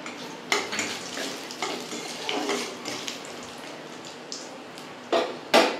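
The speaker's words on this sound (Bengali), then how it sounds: "এবার আমি ওই তেলের মধ্যে ফোড়নটা দিয়ে দেব, শুকনো লঙ্কা, গোটা জিরে আর তেজপাতা" Dried red chillies, whole cumin seeds and bay leaf tempered in hot oil in a kitchen pan, giving a soft steady sizzle with clinks of utensils and a few sharper scraping taps near the end.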